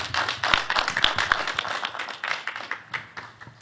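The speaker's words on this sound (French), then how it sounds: "il mérite les applaudissements." Scattered clapping from a press conference audience in Dallas, irregular and moderately close, with individual sharp claps standing out from a looser patter, no talk over it.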